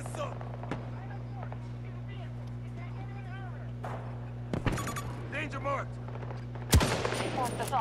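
Battlefield 2042 gunfire: sharp shots crack out at intervals over a steady hum of background game noise, with a louder close burst near the end and voices talking throughout.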